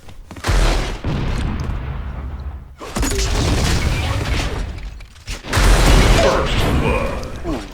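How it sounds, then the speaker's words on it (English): Rockets explode in a video game duel match, several heavy booms in bursts with rumbling blasts between them, under a lively commentator's voice. "Very, very nicely placed rockets."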